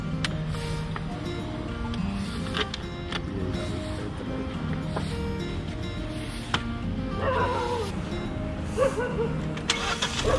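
Kia Seltos HTX 1.5 petrol engine turning over and idling nearby, a steady low drone with brief bursts of higher sound and a dog barking faintly at times.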